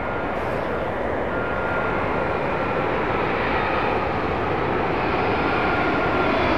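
A Boeing 777 airliner passes overhead on arrival at Heathrow, its engines a loud, continuous, broad roar that holds steady and close the whole time.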